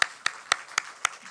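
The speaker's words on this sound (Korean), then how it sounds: "우리 하나님께 영광의 박수 올려드립시다." Sparse, evenly spaced claps from a church congregation during a Sunday worship service, about six sharp hand claps at a slow steady beat with quiet gaps between them.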